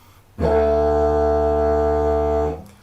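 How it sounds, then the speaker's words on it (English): A steady didgeridoo drone at moderate volume, held for about two seconds with a clean start and stop. "If I play sort of a medium volume drone,"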